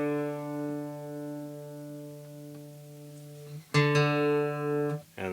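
Two guitar strings ring together at a steady sustained pitch for ear tuning, then are struck again loudly near the end with fresh bright attacks, alone with no talk.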